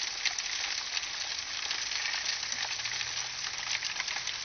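Steady, dense sizzling and crackling of five pork butts cooking on a smoker, close and continuous, with no pauses and no voices.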